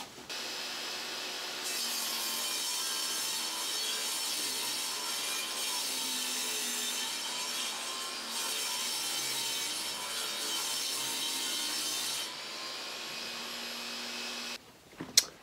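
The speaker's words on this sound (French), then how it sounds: "Donc là c'est parti, on passe à la découpe." An MDF board for French cleats is cut in a workshop with a power saw, a steady whining rasp lasting several seconds before it winds down, close up with no talking.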